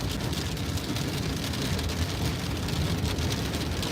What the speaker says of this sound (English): I don't know if you can hear the water hitting the side of the road?